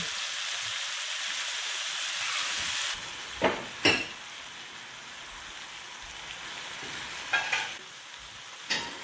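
Flanken-cut seasoned short ribs sear in a pan on a stove top, giving a steady broadband sizzle that holds throughout, with a few brief louder crackles and spatters near the start and end.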